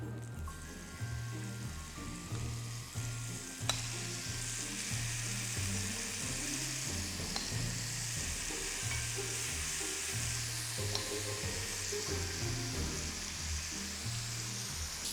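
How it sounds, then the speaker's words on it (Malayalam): Chicken pieces frying in a pan, a steady close sizzle with stirring and scraping running throughout, no talk over it. "ബാക്കിയുള്ള ചിക്കൻ ഇതുപോലെ ഫ്രൈ ചെയ്തെടുക്കാം."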